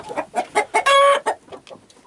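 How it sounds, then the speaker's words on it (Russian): A rooster held upside down by its legs gives a rapid run of agitated clucks, one longer squawk in the middle, close and loud. "петушка держим за ноги."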